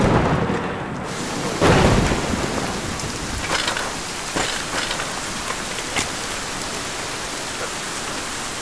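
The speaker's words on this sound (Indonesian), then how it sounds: "Hujannya sangat deras." Heavy rain pours down in a remote, open spot, a dense, loud, steady hiss of drops hitting surfaces, broken by a couple of sharp thunder-like cracks and rumbles, with no voices.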